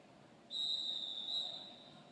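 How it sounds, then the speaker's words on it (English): A rolling whistle at a roller derby game ends the break before the second quarter, one shrill, trilling blast of about a second over faint arena background noise. "that is our rolling whistle, signalling the end of our heat break as our players take to the track for the second quarter of our game"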